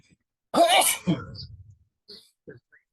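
One loud, close sneeze erupts abruptly, followed by a short breathy exhale and a few faint quiet sounds afterward.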